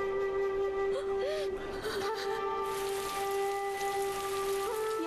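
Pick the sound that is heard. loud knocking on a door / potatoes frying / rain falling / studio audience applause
rain falling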